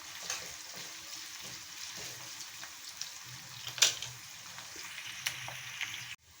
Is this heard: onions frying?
yes